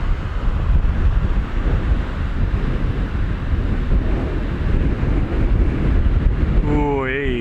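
Strong wind buffets the microphone during slope flying of a 1.5 m model glider, a steady loud roar that goes on throughout, with a voice starting briefly at the very end.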